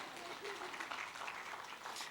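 A church congregation claps for the collaborators, a continuous ripple of many hands, fairly faint and distant, with some murmuring voices mixed in.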